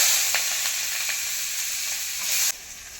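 Three medium chopped onions sizzling in hot oil in a pan, a steady bright frying hiss with a few crackles and stirring scrapes, close and continuous with no talk.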